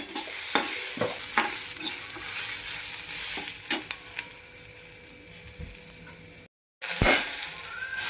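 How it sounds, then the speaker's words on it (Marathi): Chopped tomatoes sauté in a pan of masala for a spicy potato curry: a steady low sizzle runs under repeated scraping strokes and light clinks of a spoon against the pan, close up, with one brief break near the end. "टोमॅटो पण परतून घ्यायचा."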